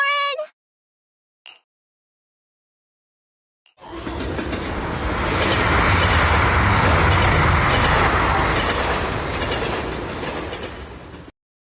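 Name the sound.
train running on rails in video game Zenless Zone Zero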